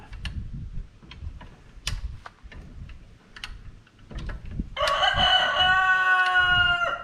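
A rooster crows once, loud and fairly close, a long drawn-out call following a series of sharp ticking and knocking sounds in an outdoor setting.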